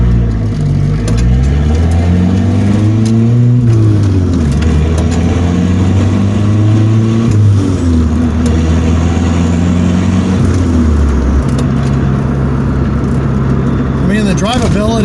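Ford Probe GT with an HX35 turbo accelerates hard, the engine note climbing through several gear pulls with drops between shifts, loud and close from inside the car.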